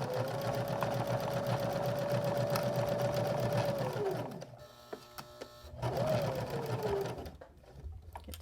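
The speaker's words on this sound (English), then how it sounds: "I'm going to go about 2 stitches further with my needle down, then turn again." Sewing machine stitching a fabric gnome ornament, a close whirring run of rapid stitches that slows and stops, then a second short burst before halting.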